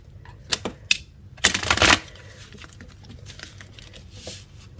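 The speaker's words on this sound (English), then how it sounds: "let's get a good shuffle and see what we get for today" Tarot cards are shuffled in a few quick riffles, crisp papery bursts close by, the longest near the middle, then soft handling noises in a quiet room.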